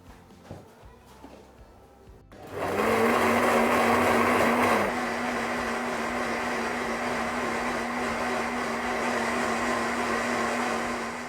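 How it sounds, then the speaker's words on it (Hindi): An electric blender whirs while mixing raw mango juice with mint and water: after a few soft clicks it starts abruptly with a loud, steady motor whine, then settles into a slightly lower, even hum that runs on to the end. "एक से 2 मिनट मशीन को चलाने के बाद ब्लेंडर जार उतार देंगे।"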